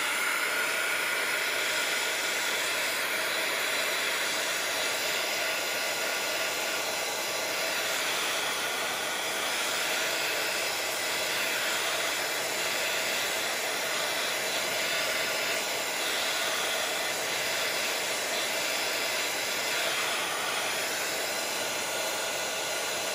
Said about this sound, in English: Now I'm going to heat it again.